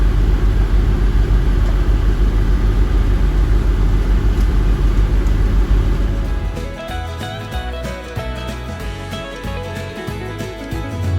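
A river boat's diesel engine rumbles loudly and steadily while pushing upriver and belching black smoke, a deep continuous drone that shifts into a rougher, pulsing tone partway through.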